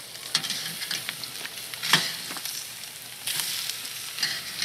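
Bone-in ribeye steaks sizzle on a hot Grill Dome Kamado grill, giving a steady, close crackling hiss with a few sharper pops and no talk over it.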